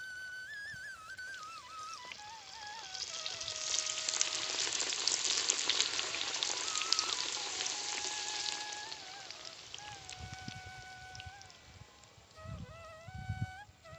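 Cabbage and masoor dal fritters fry in hot oil with a steady, loud bright sizzle that swells in the middle, while birdsong chirps run over it and a few soft low thumps sound near the end.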